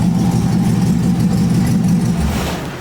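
A cold 1948 Ford F1 custom panel truck engine idles loudly and close up, a steady low rumble with a rich carburetor blowing black smoke, easing slightly at the end.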